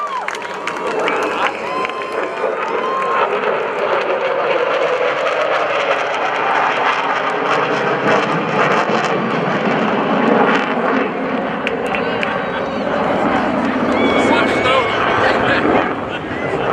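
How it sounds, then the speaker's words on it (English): A US Navy F/A-18 Super Hornet jet roars past loudly at an airshow, its engine noise swelling and sweeping across the sky while a crowd murmurs and cheers beneath it. "your United States Navy's F-A-18 Super Hornet."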